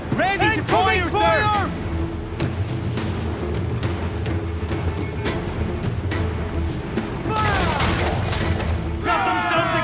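Ship cannon fire in Assassin's Creed IV Black Flag, with heavy booms and sharp blasts scattered through the scene over crew shouting and whistling sweeps, loud and close.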